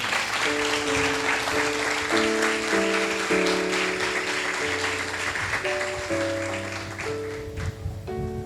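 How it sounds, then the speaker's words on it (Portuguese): Congregation applause during a church sermon, a continuous wash of clapping mixed with sustained organ or keyboard chords playing underneath. "Você pode aplaudir o nome de Jesus por isso?"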